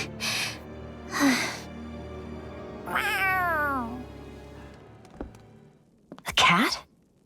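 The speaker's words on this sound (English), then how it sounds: "A cat? Where'd it come from?" A cat in the video game Tales of Arise meows several times, with short calls followed by a longer drawn-out wail and a final sharp cry, each standing out clearly against quiet background.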